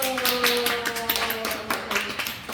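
A youth church congregation clapping, brisk loose applause over a lingering sustained musical tone, moderately close and steady throughout.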